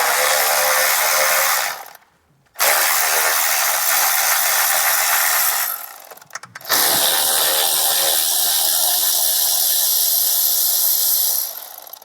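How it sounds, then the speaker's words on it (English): A ratchet spins in long continuous runs, loosening the 8mm bolts on the lower intake manifold of a Dodge Jeep Chrysler 3.6L engine. The bursts are broken by two brief pauses, loud and close. "So just go around the perimeter and loosen and remove all of these 8mm bolts that are holding it down."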